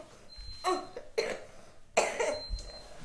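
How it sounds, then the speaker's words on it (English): A child coughs in four short, sharp bursts spaced about half a second apart, close by, with no talk. "don't like that little cough."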